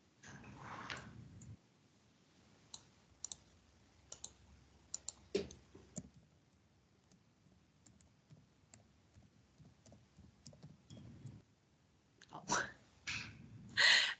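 Scattered clicks of a computer keyboard during an online class recording, sparse irregular taps, close and faint, with pauses between bursts and a few louder clacks near the end.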